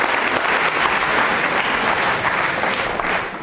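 Studio audience at a televised quiz show gives loud, vigorous applause, a thick continuous roar of clapping that fills the space throughout.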